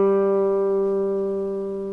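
A single sustained note rings on a three-string cigar box guitar with a slow vibrato, the pitch wavering gently as it decays. The tone is clear and close, alone with no voices.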